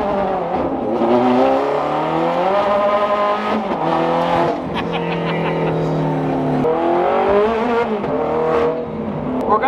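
A loud car engine drones and revs while driving in traffic, close and continuous, with rising and falling pitch as the throttle changes.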